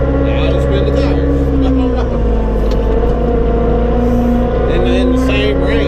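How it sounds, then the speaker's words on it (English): Compact tractor with a CVT revving hard and spinning its tires, a steady loud droning engine note with rising and falling pitch, a voice talking over it. "now it'll spin the tires"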